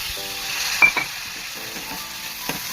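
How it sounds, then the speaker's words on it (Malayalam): Onion and green chillies sizzle and fry steadily in a pan, with a couple of short clinks from a spoon stirring against the metal partway through. "സവാളയും മുളകെല്ലാം ശരിക്കും മുരിഞ്ഞിട്ടുണ്ട്"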